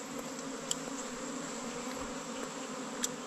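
Honeybees buzz around a wild nest in the forest after rain, a faint, steady insect hum with a few brief louder passes of individual bees close by.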